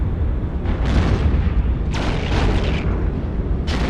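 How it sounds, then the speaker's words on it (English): Spaceship explosions in the video game EVE Online: deep rumbling booms with several sharp crackling bursts layered over a constant low roar, loud and dramatic, with no talk. "I love the explosions in the game, though."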